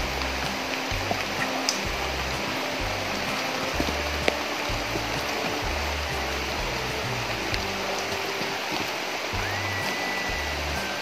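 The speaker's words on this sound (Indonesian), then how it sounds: "Berhubung hari sudah hujan" Rain falling at a coconut plantation, a constant, dense hiss of drops with scattered louder taps and low rumbles underneath, steady and moderately quiet throughout.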